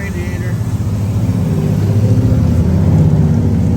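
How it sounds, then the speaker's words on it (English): A 1929 Model A truck engine runs close and loud with a rough, steady low chugging, while a voice talks over it; distinct backfire pops are not clearly apparent. "This ain't good. Still backfiring and boiling water out of the radiator."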